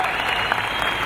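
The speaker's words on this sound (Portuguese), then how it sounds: "por favor, pessoal, energia e palmas" An audience claps at the opening of a distribution centre for a pharmacy chain, a brief burst of dense, steady applause filling the room.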